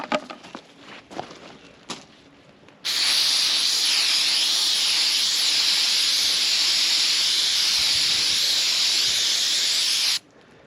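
Brake cleaner sprayed from an aerosol can while cleaning a compressor screen during an oil change, a loud steady hiss lasting about seven seconds after a few faint handling knocks.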